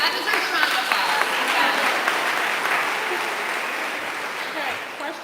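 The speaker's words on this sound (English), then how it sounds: "That deserves round of applause." Steady, dense applause from a live audience at a talk event with Alison Roman, filling the room evenly for several seconds without a break.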